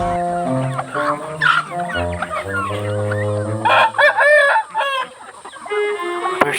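Backyard chickens kept as household fowl, clucking in a busy overlapping chorus with a rooster crowing loudly nearby, all close and clear with no talk.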